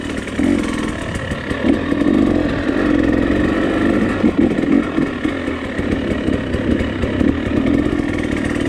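A dirt bike engine revs steadily and loudly throughout a riding practice session, its rough, buzzing drone rising and falling with the throttle, up close and with no talking.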